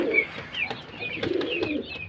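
A single pigeon coos in a few short, low rolling phrases close by, fairly quiet, with light ambient noise and no talking.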